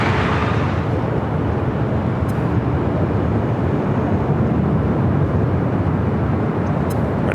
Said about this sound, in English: Next arrival is a heavy Delta Airlines flight 742 coming up from JFK. It's a 767-400ER